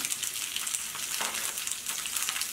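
Chopped onion and capsicum sauté over a high flame for gobi manchurian, giving a steady, close, dense sizzle with faint stirring and no talk.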